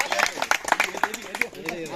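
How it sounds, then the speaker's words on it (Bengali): Clapping from a crowd at the final of a friendly village cricket tournament, honouring the organiser, heard as brisk scattered applause with voices and chatter mixed in throughout. "জোরে একটা করতালি হবে।"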